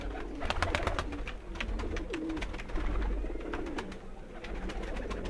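Pigeons at a rooftop loft, a Lakhi female paired with a Ferozpuri male, coo softly and repeatedly, with low throaty calls and fluttering clicks over steady background noise.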